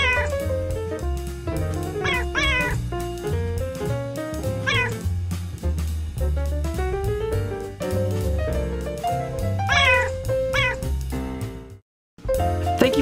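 Rescued feral house cats meowing repeatedly over a constant, dense tonal background, with rising and falling calls that are loud and close, then a brief drop to near silence before the sound resumes.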